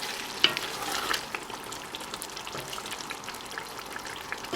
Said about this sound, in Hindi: इसे मिक्स करें और सिर्फ 2 से 3 सेकंड के लिए इसको ज़रा सिमर करने दें